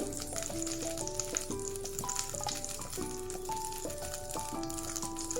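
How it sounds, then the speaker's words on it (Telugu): Bay leaves fry in melted butter in a hot pan, giving a steady, close sizzle that runs the whole time beneath a tuneful background melody. "బటర్ మెల్ట్ అయిన తర్వాత 2 పలావాకులు"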